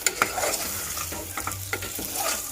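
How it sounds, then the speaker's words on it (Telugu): Something fries in a little oil in a pan as part of a cold-season crab stew, with close clinking stirs and spatula knocks over a light sizzle, no speech. "సో ఇది కొంచెం ఆయిల్లా ఫ్రై కావాలి."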